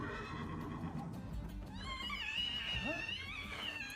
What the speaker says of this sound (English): Wait, is that the same horse from season 1?